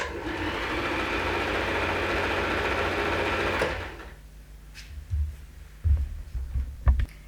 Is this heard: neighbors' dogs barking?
no